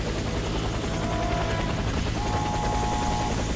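A helicopter in the co-op shooter game Warface, its rotor thumping steadily and loud throughout with a constant engine whine, alone without voices.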